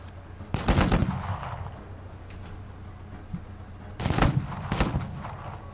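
Video game gunfire rings out in two loud bursts of rapid shots separated by a few seconds of quieter background noise, with no talking over the shots.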